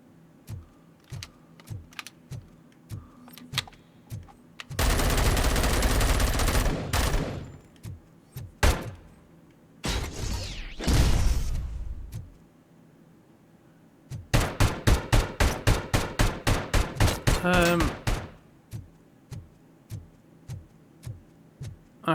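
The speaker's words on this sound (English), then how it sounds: "you just giving me warning shots because I shot you" Gunfire in RoboCop: Rogue City: sparse sharp single shots, a sustained roaring burst, and later a rapid, evenly spaced volley of loud cracks, separated by near silence.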